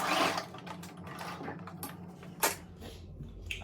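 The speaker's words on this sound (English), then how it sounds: "I'm going to take my fabric to my sewing machine and stitch it down" A sewing machine stitches down fabric for a side-ruffle turban, a steady close mechanical whir with small clicks and a louder clunk near the end, running alone without talk.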